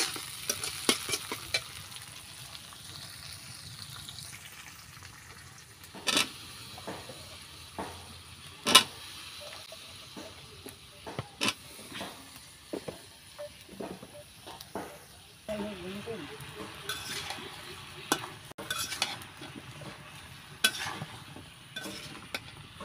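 Fish frying in a pan in a village kitchen, a continuous close sizzle with scraping stirs and occasional clinks of a utensil, while someone talks over it at intervals.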